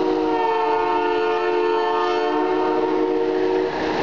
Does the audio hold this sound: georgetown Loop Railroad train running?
yes